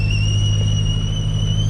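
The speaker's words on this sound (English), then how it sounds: "Oh, I can hear the whistling. So that is my kettle." A kettle aboard a sailboat whistles with two steady, piercing high tones held without a break. A low, rumbling hum runs beneath it.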